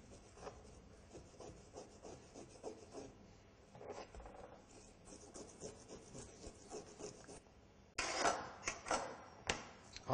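A knife scrapes the scales off a sea bream against the grain, giving repeated quick rasping strokes in a steady rhythm that grow louder and harsher near the end, close up with no talking.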